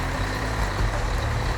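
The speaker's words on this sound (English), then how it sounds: "They will take the truck out." A truck moves with a steady low engine rumble under broad road noise; reversing beeps are not clearly distinguishable.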